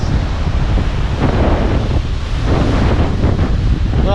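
Strong ocean waves surge and churn around a pier in rough water, a continuous loud roar with heavy wind buffeting the microphone throughout.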